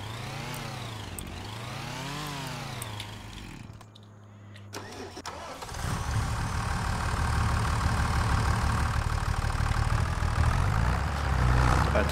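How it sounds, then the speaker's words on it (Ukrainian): A tractor engine in Farming Simulator 25 runs loudly and close. A rising, falling whine gives way to a brief quiet gap, then the engine starts and settles into a steady, dense rumble that continues to the end. "Ще тестуємо цього тракторця."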